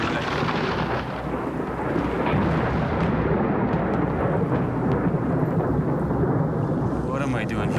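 Heavy thunder rolls over gator-infested swamp water during a storm, a loud, continuous rumble with rain hiss filling the whole stretch, close and enveloping.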